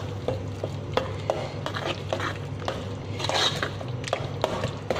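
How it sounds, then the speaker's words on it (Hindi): Egg and potatoes fry in a pan while being stirred, a soft sizzle underneath repeated scraping and clinking of a utensil against the metal, close and irregular. "अब हम बाकी का अंडा भी ऐड कर लेंगे इसके अंदर और इसे अच्छी तरह फ्राई करते रहेंगे।"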